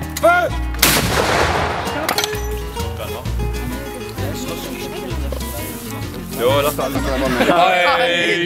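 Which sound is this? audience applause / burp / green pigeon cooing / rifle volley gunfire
rifle volley gunfire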